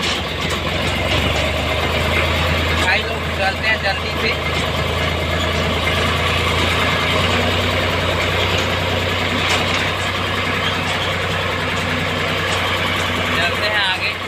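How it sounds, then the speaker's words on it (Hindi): A tractor engine runs with a steady low drone, started up and ready for threshing work in rural Chhattisgarh. Someone talks over the continuous rumble throughout. "अपन ट्रैक्टर स्टार्ट हो गए देख सकते हैं"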